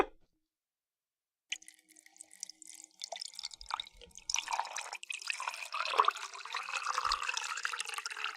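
Liquid poured during a live stream, a steady splashing, trickling stream that starts after a brief silence and builds to a continuous close pour with dripping sounds.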